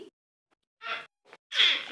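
A child imitates a cat's meow at home, giving a few short, separate mewing calls with silent gaps between them, close to the listener and fairly quiet.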